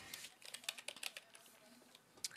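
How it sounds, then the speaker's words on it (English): Rapid typing on a computer keyboard, a run of light clicky keystrokes in uneven bursts with short pauses, close and fairly quiet, no talking. "I'm gonna try typing that in"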